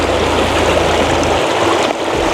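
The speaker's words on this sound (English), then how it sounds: "start to pump clean, filtered, purified water" Guzzle H20 water purification system running and pumping filtered water, a steady loud rushing flow like a stream that holds constant throughout, with no speech.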